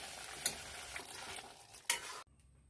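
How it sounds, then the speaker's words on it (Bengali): Katla fish simmering in bubbling tomato gravy, a steady broadband sizzle and stir with two sharp clatters, cutting off abruptly to near silence at the end. "ঝোলটা বেশ খানিকক্ষণ ফুটেছে, এবার আমি মাছগুলো দিয়ে দেবো।"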